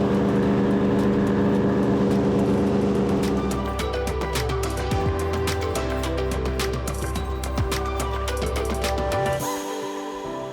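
A Miccosukee Everglades airboat roars during a ride, its loud engine and propeller a constant close drone with shifting pitch and rattling mechanical noise, easing slightly near the end.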